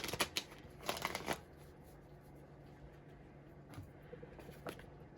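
Tarot cards are shuffled in quick riffling bursts near the start, followed by a quieter stretch and a few soft card slides and flicks as cards are drawn.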